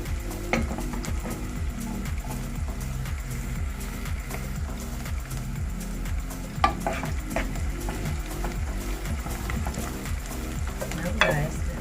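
Garlic fries in a pan for an okra and beef stew, a steady close sizzle with repeated stirring scrapes and a few sharper clinks of a utensil, with no talking.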